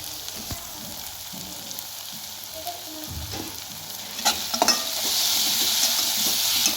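Dill and mustard greens cook in a pan with a steady soft sizzle, broken by several spoon scrapes and clinks as they are stirred, growing a bit louder near the end, with no one talking.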